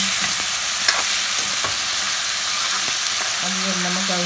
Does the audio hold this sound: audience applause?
no